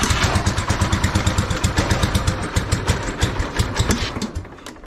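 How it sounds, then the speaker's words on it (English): A small tractor engine runs at a steady, rough idle, its loud, rhythmic clatter pulsing evenly throughout with no voices over it. "this thing is a good little freaking tractor now"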